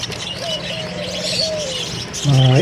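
Budgerigars chirp and warble in quick, busy bursts, a lively chatter of tweets with a louder flurry of calls near the end.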